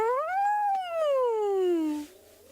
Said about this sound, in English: Can you hear that hyena?